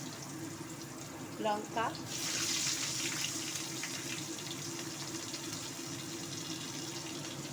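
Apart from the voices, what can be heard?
black cumin and onion tempering sizzling in hot oil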